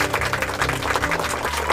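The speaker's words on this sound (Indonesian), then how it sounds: "Tepuk tangan untuk kita semua." A third-grade primary school class claps together in a brief, dense burst of many small hands, loud and close, lasting under two seconds.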